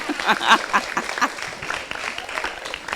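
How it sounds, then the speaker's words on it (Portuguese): A small group at a Spiritist study class gives scattered applause, uneven individual claps rising and fading, with faint voices and cheers mixed in. "Eu gostaria de uma salva de palmas para o meu grupo"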